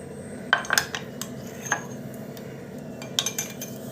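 Teaspoon scraping and clinking against a metal pot while sugar is spooned into hot milk for custard; a few light, close metallic taps and scrapes spaced irregularly over a low background hum, no talking.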